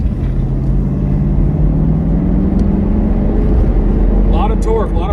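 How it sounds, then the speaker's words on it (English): A 1986 Mercedes-Benz 560SL roadster's engine revs steadily under throttle, a loud continuous drone rising slightly in pitch, with a brief voice near the end. "Let's go out here and go ahead and give it some gas."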